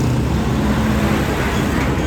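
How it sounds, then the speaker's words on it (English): A truck drives past on a busy street in Barrio Barretto, a loud, broad roar of engine and road noise filling the whole moment, with traffic around it and a voice faintly underneath. "truck went by"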